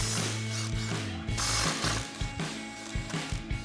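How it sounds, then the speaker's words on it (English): Ratchet with an 18mm socket loosening the lower control arm nuts on a Ford F-150 strut, rapid close metallic clicking in quick repeated strokes, heard alone with no talking. "We're gonna switch to our 18mm socket and take off our 2 nuts on the lower control arm for our strut."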